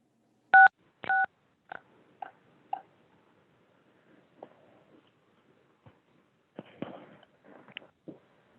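Telephone dialing tones: two loud, clear keypad beeps followed by fainter tones and clicks, then scattered soft rustling and muffled knocks.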